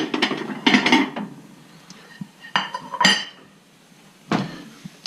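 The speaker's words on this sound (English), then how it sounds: "I'm gonna get out my plate." Clinks and knocks of a plate being taken from a kitchen cupboard while an omelette cooks, a few sharp ceramic clatters spread across the moment, close by with no talk.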